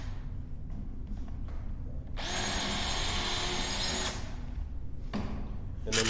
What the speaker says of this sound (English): We're going to take our drill again and we're going to drill 2 holes.